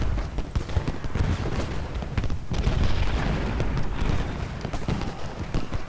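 Artillery shell fire in the Civil War strategy game Ultimate General Gettysburg sounds as repeated heavy booms with rumbling battle noise. The blasts are loud and dense, and there is no talking.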